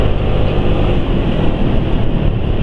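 Daihatsu Ayla car engine running rough with Bimoli cooking oil added as an additive, a steady, loud, close-up drone that stays even throughout with no voices.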